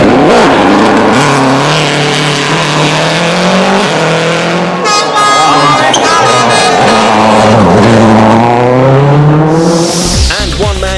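Turbocharged World Rally cars race at night at the Monte Carlo Rally, with loud engines roaring and revving continuously, shifting pitch as they pass close by, and tyres squealing toward the end.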